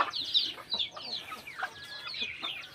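A native backyard chicken clucking in short, repeated bursts, close and fairly quiet, with faint background noise from a rural yard.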